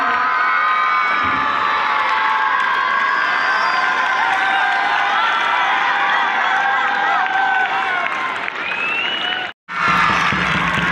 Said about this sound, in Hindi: ज़ोरदार तालियों से इस्तकबाल करें हमारे बच्चा।